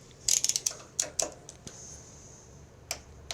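A torque wrench ratchets in quick bursts of metallic clicks while bolts on a Craftsman riding mower with a plow are tightened, close and fairly crisp, with pauses between the bursts.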